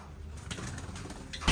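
Pigeons or doves cooing in a backyard aviary where the birds are nesting, soft low murmuring coos under steady background noise, ending in a louder rustle or flutter.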